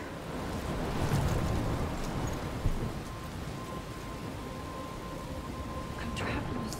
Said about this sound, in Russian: Я попала в бурю?